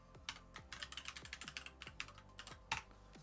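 Keys clatter on a computer keyboard as a password is typed, a quick uneven run of close, crisp clicks with one louder tap near the end.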